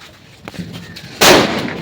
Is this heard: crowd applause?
no